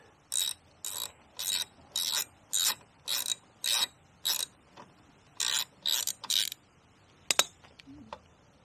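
Ratcheting wrench loosening 10mm housing bolts on a Honda HS520 snowblower: about ten quick, evenly spaced clicking bursts, close and clear, then a couple of sharp metallic knocks, with no talk.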